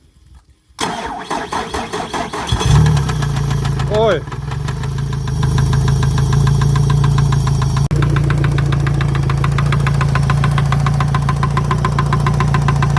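A Yamaha F150 boat outboard motor cranks, catches and settles into a loud, steady run with an odd rhythmic knocking, close by; someone shouts briefly near the start.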